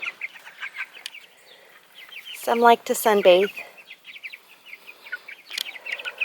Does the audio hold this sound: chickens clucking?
yes